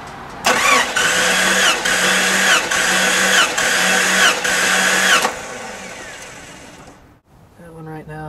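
A 1989 Jeep Cherokee engine cranks steadily on the starter during a wet cylinder compression test, a loud rhythmic chug of about five beats lasting several seconds before cutting off, followed by a brief quiet gap and a faint voice.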